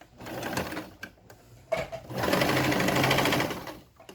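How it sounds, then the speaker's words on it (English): A sewing machine stitches a bonnet cap with an elastic hairband, running close by in quick bursts: several short runs of rapid stitching, then one longer steady run before it stops. "I'll start sewing it down now."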